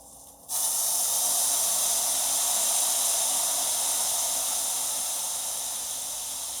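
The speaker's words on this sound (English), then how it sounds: "I'm going to take some white wine and deglaze my pan." White wine poured into a hot pan just used to sear scallops erupts into a loud, steady steaming hiss that carries on and slowly eases, with no talk over it.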